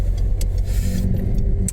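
A car passes in town centre traffic in Stirling, heard from inside a vehicle as a loud close engine and tyre rumble with brief clicks, no speech.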